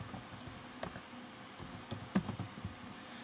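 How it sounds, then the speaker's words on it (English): Keys clacking on a computer keyboard in a quiet room while someone types text into a PowerPoint or Keynote slide, a few scattered, fairly faint strokes with short pauses between them. "Click in it and you can simply type."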